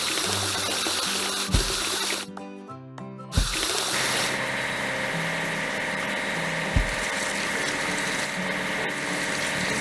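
Water sprays steadily to wash a cartoon bucket lift truck, a constant hiss over a low engine-like hum, with a few knocks and a brief dip midway.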